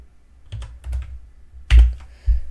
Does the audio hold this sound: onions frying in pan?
no